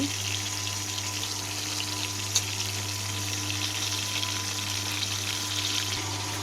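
Chital fish sizzles steadily in a pan, a continuous even hiss with a low hum underneath and a faint clink partway through, with no talking.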